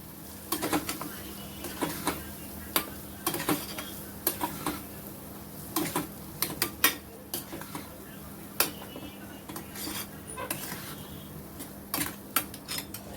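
Pea zunka being stirred in a pan, giving scattered light scraping and clinking taps of a spoon against metal at an uneven rhythm over a steady low hum, fairly quiet and close.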